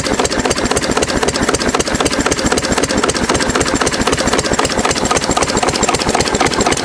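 A 6 HP Witte diesel engine runs steadily with a fast, even thumping beat and a knocking undertone, loud and close throughout with no voices.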